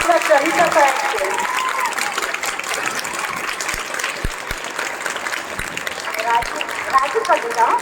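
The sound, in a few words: applause at a farewell ceremony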